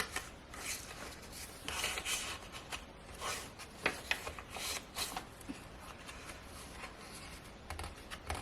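Antique stained playing cards rustle and slide as they are handled inside a junk journal pocket, giving soft, close papery shuffles and light taps that continue steadily throughout.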